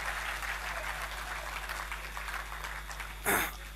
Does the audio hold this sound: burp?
no